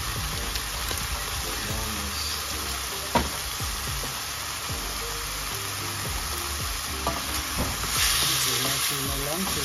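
Pork curry bubbling and sizzling in a pan, a steady busy crackle with small stirring clicks and one brief sharp knock, close and continuous with no talking.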